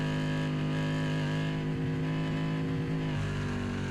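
A blown racing engine from a European Sportsman drag race keeps running with a rough, steady drone that wavers slightly in pitch, heard loud and continuous with no talk over it.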